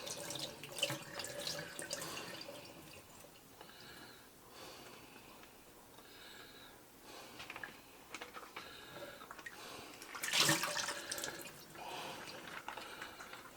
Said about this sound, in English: Drain the water out of it.